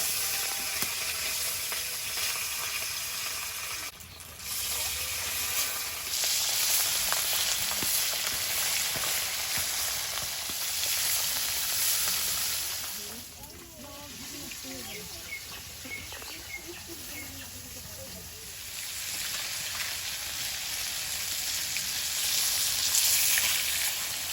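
Steady hissing sizzle of rohu fish pieces frying in hot oil in a wok, continuous and fairly loud, with a brief dip midway and faint clicking bits.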